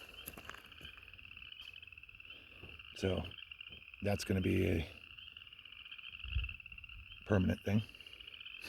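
Frogs croaking near a pond, a steady high chorus with louder nearby croaks breaking through at intervals, while a person talks over it.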